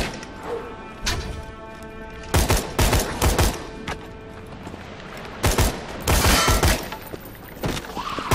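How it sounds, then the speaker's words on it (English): A skeleton horde opens fire in Tiny Tina's Assault on Dragon Keep, with bursts of clattering game gunfire and impacts in several rapid clusters, some loud and close, over a steady background hum. "They start shooting at you!"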